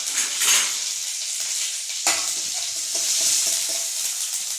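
Curry leaves hit hot oil with mustard seeds for a dhokla tempering and burst into loud crackling, spitting sizzles. Stirring scrapes and soft clinks follow as the spatter settles.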